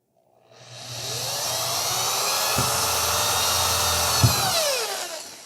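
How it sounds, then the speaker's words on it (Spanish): A power drill bores a hole at a marked spot, its high whine winding up, running steadily for about four seconds with a couple of sharp knocks as the bit bites, then winding down. "Vamos a perforar donde hicimos las marcas."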